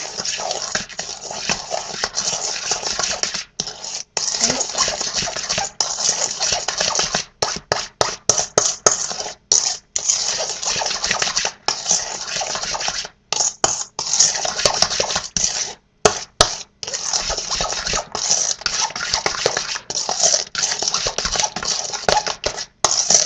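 Cheesecake ingredients are mixed in a bowl with a utensil, making a constant run of close clinks and scrapes with short pauses between bursts.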